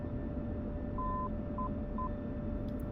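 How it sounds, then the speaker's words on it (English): Morse code identifier tones for ILS and TACAN navaids in the DCS flight simulator, a steady beeping pattern of one long dash and two shorter dots over a constant cockpit hum, with no talk. "We can hear the Morse code for both ILS and TACAN."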